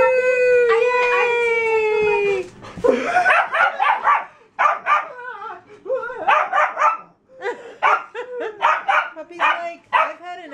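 A puppy lets out a long, high howl, then people laugh and talk over it while it yips and barks in short bursts close by.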